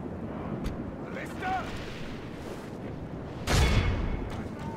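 Grapeshot artillery fires in the battle strategy game Third Age Total War. A few muffled booms over a rumbling background end in a loud, sharp blast near the end.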